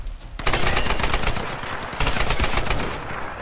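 Rifle gunfire in the video game Tomb Raider: a loud, rapid burst of automatic shots firing continuously in a steady rattling rhythm, briefly pausing and then resuming, with no talk.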